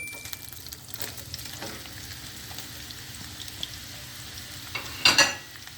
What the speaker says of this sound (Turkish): Önce tereyağı ve zeytinyağında mantarınızı bir güzel kavuracaksınız.